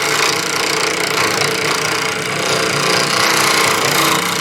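A wood lathe turns a wooden sphere under very light cuts, a dense continuous rumbling grind that stays loud and even throughout with no pauses.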